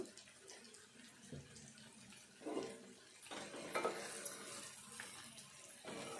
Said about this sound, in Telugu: ఇదంతా కలిసేటట్టు మంచిగా ఫ్రై కలుపుకోవాలి